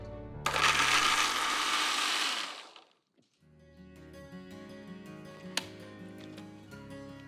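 A kitchen mixer grinder blends cashews, onion and fried ginger and garlic into a paste in a loud, whirring burst of about two seconds, then stops abruptly, followed by quieter clinks and background music.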